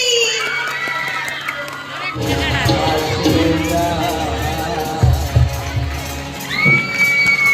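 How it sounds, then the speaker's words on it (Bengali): At an annual school cultural event, the audience breaks into loud applause and cheering with excited shouts, and a voice talks over the noise. "ধন্যবাদ, সবার জন্য একটা হাততালি"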